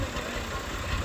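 A tractor engine idles and rumbles during a flood rescue in rain-flooded Porbandar, Gujarat, a low steady mechanical drone with rushing water-like noise around it and no speech.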